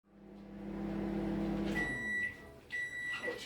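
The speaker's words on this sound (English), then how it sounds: "I'm going to put it in the microwave" A microwave oven melting jelly hums steadily for nearly two seconds, then stops and gives a series of high, clear completion beeps, close and fairly quiet.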